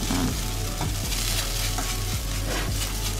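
Wet grated fresh coconut sizzling in a pan while being stirred, with a steady frying hiss and periodic scraping strokes of the spoon against the pan, close and continuous without talk.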